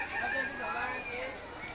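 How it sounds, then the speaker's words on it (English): Inside a barn at a fair, a rooster crows in a drawn-out call over quieter chicken clucking. The sound is moderately distant. "Some chickens right here."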